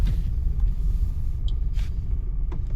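A car's engine rumbles steadily at low pitch during a driving lesson, the vehicle idling or creeping, with a few faint clicks and brief higher noises over the constant hum.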